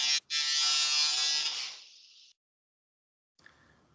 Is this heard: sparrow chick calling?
no